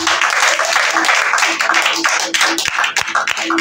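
A church congregation applauds during a worship service, dense continuous clapping from many hands with a steady sustained tone underneath and a voice faintly present.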